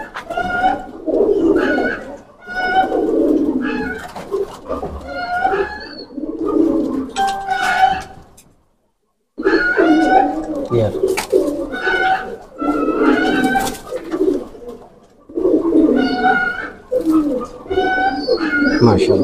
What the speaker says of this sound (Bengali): প্রিয় দর্শক কবুতর পেয়ারটা একটু আপনাদের ছেড়ে দেখাই